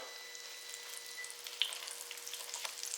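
Turkey croquettes fry in vegetable oil in a frying pan, a steady bright sizzle with crackling pops throughout, close and even, with one sharper spatter midway.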